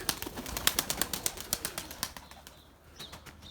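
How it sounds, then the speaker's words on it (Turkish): A bird's wings flap in a quick, rhythmic burst of soft beats close by, then fade away into quiet background noise. "Kuş."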